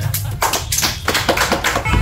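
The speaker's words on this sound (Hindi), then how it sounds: "अब्बू भाई के लिए तालियां हो जाए" People at an end-of-exams party clap their hands in short uneven bursts of sharp slaps, close to the microphone, mixed with voices talking.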